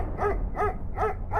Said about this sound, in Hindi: गलियों में कुत्ते भौंकें